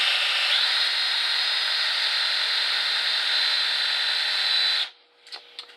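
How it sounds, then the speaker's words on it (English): A battery power drill bores a pilot hole for a homemade ball starter, a steady high whine held for nearly five seconds, then cutting off into quiet small clicks and handling. "I'm going to drill on this side of that."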